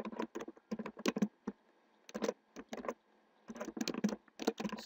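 Keystrokes on a computer keyboard while entering text into an MS Excel 2007 spreadsheet, fairly quiet bursts of rapid clicking separated by short pauses, heard alone.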